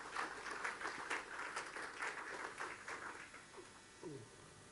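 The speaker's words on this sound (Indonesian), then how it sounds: "berikan tepuk tangannya buat Tuhan Yesus" A church congregation applauds during a sermon, a dense wash of clapping that thins and fades toward the end, with faint voices mixed in.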